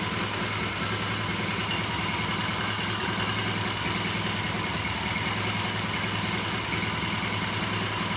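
A 1978 Triumph motorcycle engine idles steadily right after a kick start, a close, even, continuous rumble with no voices over it.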